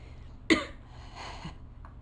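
A single short cough, close and fairly sharp, followed by faint breathy sounds in a quiet room.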